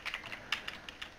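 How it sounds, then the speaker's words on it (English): A quick burst of about eight light keystrokes on a computer keyboard while a server command is entered, close and clear with no voices. "To start the server, you need to type"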